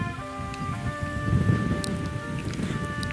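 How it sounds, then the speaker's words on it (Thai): Strong wind blowing outdoors along a road beside rice fields, a steady broadband rush with gusts swelling near the middle, loud and continuous with faint tonal hum beneath. "โอ้ยลมแรงมากเลย เสียงลมนะคะ"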